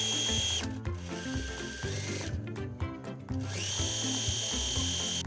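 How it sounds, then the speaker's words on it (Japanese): Close, loud whirring of a sewing machine running around a dress waist seam with a 1 cm seam allowance, motor steady with short pauses and speed changes between bursts of stitching. "そしたらこのウエストの部分をぐるっと一周ミシンで縫い代1センチで縫っていきます。"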